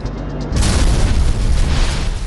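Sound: explosion aboard airplane

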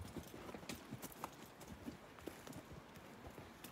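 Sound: horses walking on a woodland trail

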